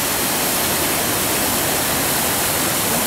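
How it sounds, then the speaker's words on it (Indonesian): A waterfall at a freshwater bathing spot, a loud constant broadband rush of falling water with no pauses and no voices. "ada air terjun"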